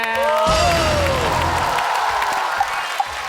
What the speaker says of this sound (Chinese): 来，让我们掌声送给今天的女神林心如小姐。